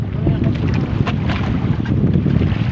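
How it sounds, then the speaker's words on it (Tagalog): Strong northeast monsoon wind buffets a boat out at sea, a loud continuous roar of gusting wind on the microphone mixed with choppy wave and hull noise, steady throughout. "Malakas ang simoy ng hangin, makalakataw pati, maalon."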